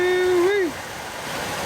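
Heavy rain blows sideways across muddy ground in stormy Texas weather, a steady close wash of hiss that follows a brief rising-and-falling vocal exclamation.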